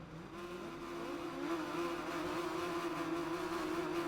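Racing motorcycles start a race at Donington Park, a Kawasaki and two Hondas on the front row. Engines rise together in a rising, revving whine that builds steadily from moderate to louder, blending into a dense pack roar.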